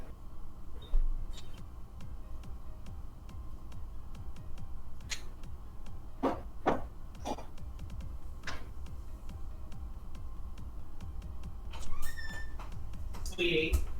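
Kittens meow and lick at an empty bowl indoors, with short scattered meows and tapping, clicking sounds over a low background hum, while a person talks nearby.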